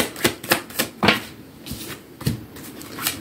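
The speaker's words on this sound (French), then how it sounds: "Le temps de placer les cartes." Tarot cards laid one by one onto a table for a three-card spread with a fourth set to the side, giving a series of soft, close slapping and sliding taps at an uneven rhythm, with no talking.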